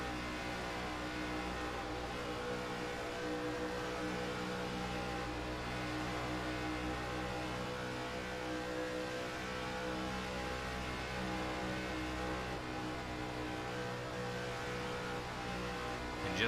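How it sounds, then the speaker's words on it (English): A field of race cars roars at full throttle through a Velocity Racing League Cup Series race, a dense, continuous engine drone that holds steady without a break. "Just that sound of all of these cars roaring at max throttle."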